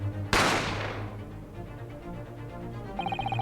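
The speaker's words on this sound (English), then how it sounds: "You heard the gunshot, you mean?" A single gunshot from the courtroom mystery video game The Great Ace Attorney Chronicles: one sharp, loud crack with a ringing decay, followed near the end by a faint chiming tone.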